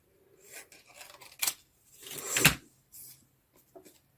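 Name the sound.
scissors cutting end off card stock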